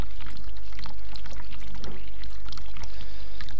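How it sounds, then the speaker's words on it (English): Bath water spills over onto a bathroom floor in the video game The Cat Lady, a loud steady pouring and splashing that runs continuously over a constant low hum, with no talking. "The water from the bath has completely flooded the bathroom floor."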